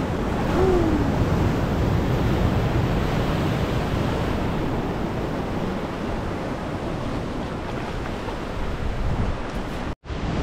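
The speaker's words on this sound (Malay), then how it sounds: "Ombak dia terlalu padu guys." Strong sea waves crash steadily on the rocky shore of Pulau Mawar off Mersing, a loud continuous roar of surf mixed with wind buffeting the microphone.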